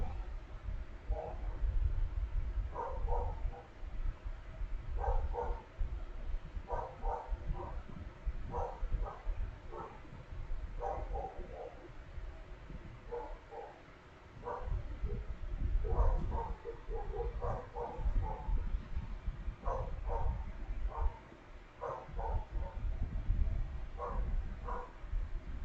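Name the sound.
neighbours' dogs barking in the background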